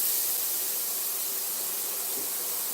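Chopped onions sizzle as they hit a hot pan while meatballs and spaghetti are cooked, a steady loud hiss filling the short stretch with no talk over it.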